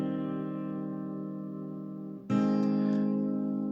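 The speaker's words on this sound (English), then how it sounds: "So I have one guitar in the center that sounds like this." An electric guitar sits in the centre of the mix, holding one sustained chord before switching abruptly to a brighter, louder chord that rings on steadily.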